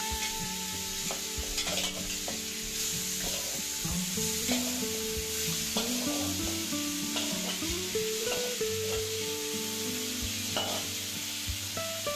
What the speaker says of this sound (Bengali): চিংড়ি মাছগুলো এর মধ্যে দিয়ে ভেজে নেব।